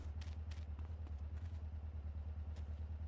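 Motorcycle idling inside a building in GTA San Andreas, a low steady rhythmic engine throb with light clattering rattles over it, quiet and close.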